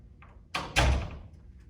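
A household door is opened, a soft click followed by a solid thunk and a louder broadband thump that fades quickly, heard close by in a quiet room with no talking.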